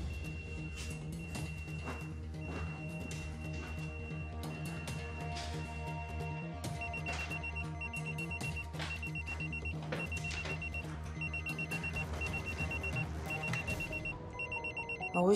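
A mobile phone rings repeatedly with a tonal electronic ringtone, steady and moderately loud over a cluttered background, no one speaking.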